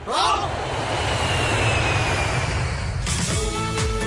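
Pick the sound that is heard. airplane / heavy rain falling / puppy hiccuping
airplane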